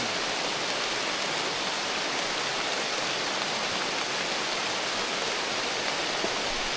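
Steady, dense rain falls on a jungle campsite along the Gunung Tahan trail, a continuous even hiss with no pauses or voices.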